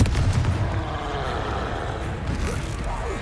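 Confringo fire blast spell going off in Hogwarts Legacy, a loud rumbling boom with a heavy low thud at the start that rolls on as sustained blast noise for a few seconds.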